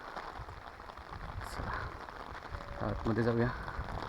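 Heavy rain pours down at Sajjangad fort near Satara, a soft, constant hiss of falling water beneath someone speaking briefly near the end.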